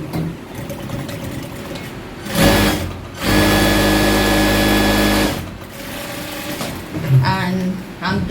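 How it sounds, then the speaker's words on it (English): A sewing machine stitches the side seam of a tote bag in one steady, loud whirring burst of about two seconds, set between quieter stretches of handling and room noise. "I'll also sew this other side too."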